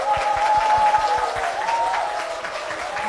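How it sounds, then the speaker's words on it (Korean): A church congregation in a Seoul church hall bursts into brisk, crowded clapping, a rapid patter of many hands held at an even level for a few seconds. "성도님들의 박수와 함성으로 시작을 했습니다"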